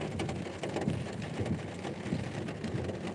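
Rain falling outdoors, a steady soft patter of drops on surfaces with a faint low rumble underneath, continuous and moderately quiet, no one speaking.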